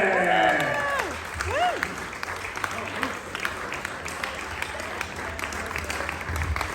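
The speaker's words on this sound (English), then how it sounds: "Keep that applause going for Dewayne" A comedy club audience claps and cheers for a comedian taking the stage, a loud burst of applause that thins into scattered claps while a voice talks over it.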